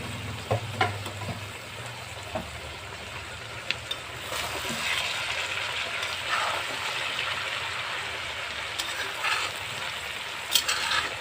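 Chopped spinach frying in a pan with potato and shrimp, a continuous moderate sizzle with wet hissing and occasional knocks of a utensil, no voices.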